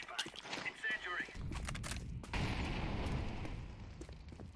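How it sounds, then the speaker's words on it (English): A flashbang grenade goes off in a Counter-Strike 2 match, a loud burst followed by a sustained ringing, rumbling wash, with scattered clicks and voices around it. "Deploying flashbang."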